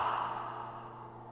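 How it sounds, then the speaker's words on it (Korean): A long, breathy yawn comes through close and alone for about a second, swelling at the start and slowly fading as it trails off into a soft exhale. "하품 소리가 들립니다"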